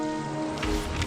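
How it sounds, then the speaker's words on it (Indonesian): Ordinary village rain falls as a brief, steady hiss of drops, a dense continuous wash at moderate loudness used as a sound effect in an animated folk tale. "Ini hanya hujan biasa seperti hujan-hujan sebelumnya."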